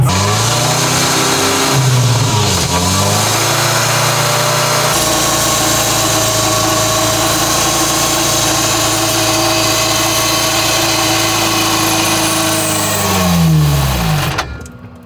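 An off-road vehicle's engine revs up and holds high revs at full throttle during an off-road test, with a loud, sustained roar and rising, then falling pitch sweeps near the start and end.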